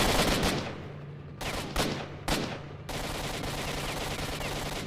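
Enemy gunfire in a video game, loud bursts of automatic shooting that cut in and out, with several short gaps before a sustained stretch of fire.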